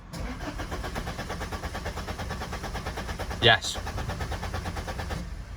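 A Volvo V70 D5 diesel engine cranks without starting, a steady rhythmic churning of the starter that runs for several seconds, with a brief spoken word partway through.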